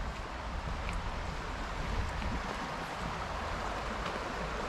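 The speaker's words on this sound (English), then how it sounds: "I love that sound. Water rushing over rocks." Water rushing over rocks in a stream along a woodland trail, a continuous, even broadband rush that stays close and steady throughout, with no voices.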